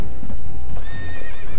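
Horses from the real-time strategy video game Empire Earth, a loud close whinny rising over a dense thud of clip-clopping hooves within a short game sound effect.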